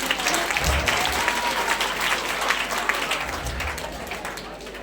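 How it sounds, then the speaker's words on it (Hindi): An audience claps during a school recitation about Karna, a loud, continuous patter of many hands with a couple of low thumps underneath, lasting the whole stretch. "ताली बजा दो"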